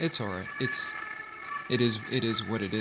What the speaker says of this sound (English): I'm sorry if you can hear the ambulance in the background.